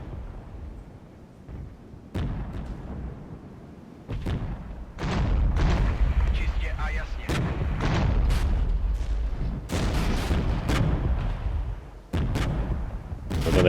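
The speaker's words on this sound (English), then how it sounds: "We've got the artillery coming in as well." Artillery barrages strike again and again in the Cold War strategy game Regiments, a series of sharp, close booms and thuds at uneven intervals, with rumbling gunfire filling the gaps between impacts.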